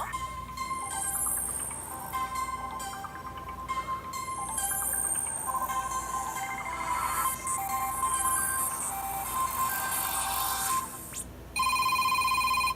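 A Motorola Moto G5 Plus phone speaker plays its ringtone, a bright repeating electronic melody that runs steadily for about eleven seconds, loud and alone, then shifts to a sharper sustained tone at the end.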